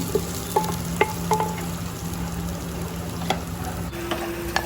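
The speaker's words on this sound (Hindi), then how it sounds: "अब ये तकरीबन फ्राई हो चुके हैं" Bitter gourds (karela) sizzle in hot oil in a desi handi, a close, steady frying hiss broken by a few scraping stirs, with no voices.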